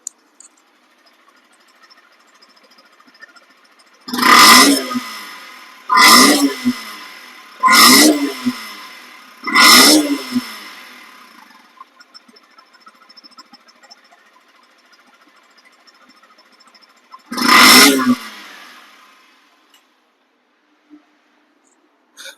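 A 2025 Yamaha FZ motorcycle engine idles softly and is revved five times, each a loud, roaring burst lasting about a second, four in quick succession and one more after a pause, with no talking.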